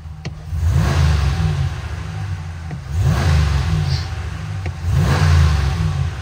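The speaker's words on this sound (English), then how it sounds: "let's give it a couple revs." A 2022 Ram 1500 Classic Warlock pickup truck engine revs three times in a regular rhythm, each rev rising sharply and falling back to a low idle. Close and loud.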